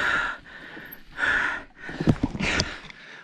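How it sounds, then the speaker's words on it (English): A cyclist riding uphill pants heavily in close, rhythmic gusts of breath, with a few sharper snorting exhales and no speech. "So yeah, already panting quite a lot."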